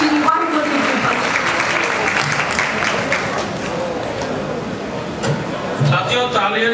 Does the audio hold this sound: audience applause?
yes